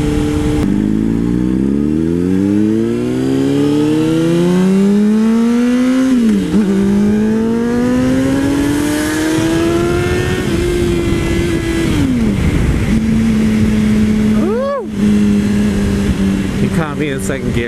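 A Honda CBR600RR sport motorcycle accelerates hard through the gears, its loud close engine climbing in pitch and dropping at each shift, with wind roar and a voice talking over it.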